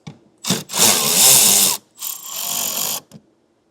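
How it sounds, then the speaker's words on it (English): A power drill removes a T20 Torx screw from a vehicle floor panel during a hidden trailer hitch installation, with two close, loud whirring bursts of about a second each separated by a short pause. "Now there's a T20 torque screw right here that we'll remove."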